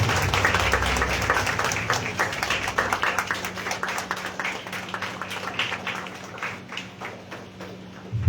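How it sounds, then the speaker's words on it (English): Audience at a school elocution event clapping together, a dense, steady patter of many hands that carries on for several seconds, loud at first and slowly easing. "Clap."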